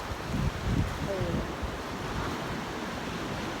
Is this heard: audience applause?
no